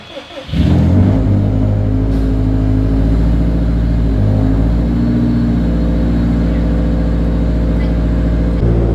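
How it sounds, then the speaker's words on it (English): A Subaru STi hatchback cold-starts: the starter cranks briefly, then the engine catches with a loud flare and settles into a steady, rumbling high idle that carries on unbroken, close by. "I'll give you a little cold start if you want to hear it real quick."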